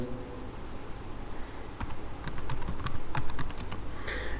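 Typing VBA code on a computer keyboard: a short burst of close, quick key clicks in the middle, over a steady background hum.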